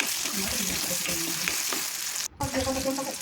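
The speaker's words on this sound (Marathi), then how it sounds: "त्यानंतर त्यात एक टोमॅटो घालूया टोमॅटो छान सॉफ्ट होईपर्यंत त्याला परतून घ्यायचं" Onion and tomato sautéing in oil in a pan for a capsicum and besan dish, a steady close sizzle and frying hiss with a brief stirring break near the end.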